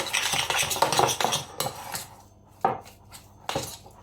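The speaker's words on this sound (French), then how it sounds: "On mélange le tout." Utensils stirring a zucchini stuffing mixture of fresh goat cheese and mint in a bowl, a dense run of scraping and clinking that breaks into a few separate knocks after a brief pause.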